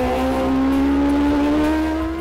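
A Kawasaki Ninja H2R motorcycle races flat out on the Isle of Man road course, its engine a loud, continuous high-pitched scream with a steadily rising tone, heard close as if onboard.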